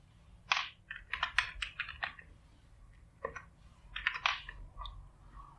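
Computer keyboard typed on in short bursts, quick clusters of crisp clicking keystrokes separated by brief pauses, close and fairly quiet.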